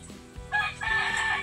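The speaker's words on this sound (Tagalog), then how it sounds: "Yon, manok." A rooster crows once, loud and close, its call rising and holding in a drawn-out cry amid faint background farm noise.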